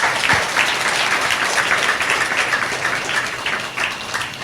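Loud, sustained clapping from a church congregation during a Sunday service, a dense, continuous wash of hands close by with faint voices mixed in.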